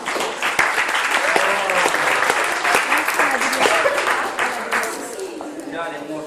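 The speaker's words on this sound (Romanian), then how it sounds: "Aplauze." A crowd at a lively party gives loud, dense applause with clapping close by, lasting several seconds before thinning out, while voices talk over it.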